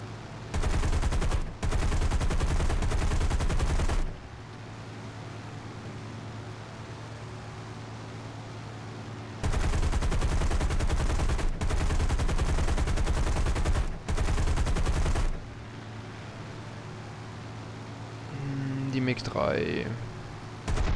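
Automatic fire from a War Thunder vehicle's gun using ammunition without tracers, heard as two long, loud sustained bursts of rapid shots, each broken by brief pauses, with quieter engine hum between them.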